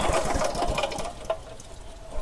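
A Parker-35 vacuum pump runs weakly with a rapid, pulsing mechanical chug. It is loudest at first, then eases and wavers with soft surges.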